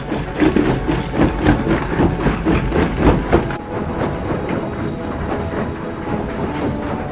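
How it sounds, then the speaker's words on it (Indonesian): A large diesel stone crusher grinding rocks into split gravel: rhythmic heavy pounding and clattering for the first half, then a steadier grinding rumble with fainter rattles, loud and close. "Begitu besar sekali mesin diesel ini menghancurkan batu-batu ini hingga menjadi split"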